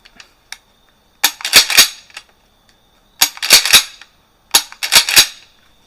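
Mossberg Maverick 88 Cruiser 12 gauge pump shotgun fired outdoors in three loud bursts of sharp reports, each blast followed by quick echoing cracks and the rack of the pump, with silence between volleys.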